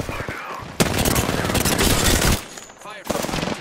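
Bursts of automatic gunfire and rapid shots from a shooter video game, loud and close, with a brief lull before more shooting.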